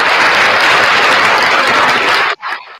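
A crowd applauds loudly at the close of a live 300th-episode show, a dense continuous wash of clapping that cuts off sharply near the end, followed by a short final patter.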